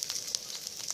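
Bok choy searing in a hot skillet, a faint steady sizzle and crackle with small pops scattered through one short second.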